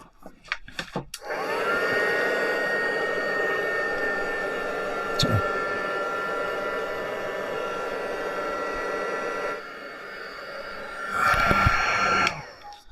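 A hair dryer blowing steadily on a craft piece, a close whooshing motor roar that briefly cuts out and restarts, with some handling knocks at the start and end.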